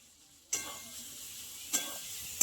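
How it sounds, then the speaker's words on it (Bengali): Potatoes fry with spices and Kashmiri chilli powder. The sizzle starts abruptly after a brief quiet, then runs on steadily, broken by a couple of sharp utensil clinks from stirring. "আলুর সঙ্গে মশলা ভালো করে কষানো হয়ে গেছে।"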